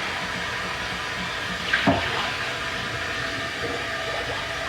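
Running tap water rinsing out items at a sink while making French toast coffee, a steady continuous wash with a brief louder splash partway through, no talking.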